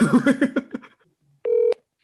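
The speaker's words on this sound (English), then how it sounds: "If you guys can hear that ringing." A telephone rings during a call, one short steady electronic tone heard close after a few seconds of talk.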